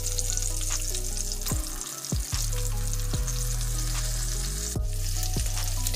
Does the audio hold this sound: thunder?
no